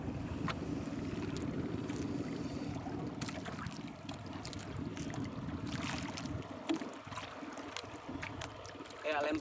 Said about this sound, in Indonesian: Angin timur nih teman-teman.